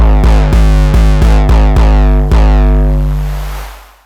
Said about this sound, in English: So more distortion, more saturation.